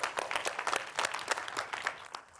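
A live audience claps together for a few seconds at a food media event, with dense overlapping hand claps that fade slightly toward the end, no talking on top.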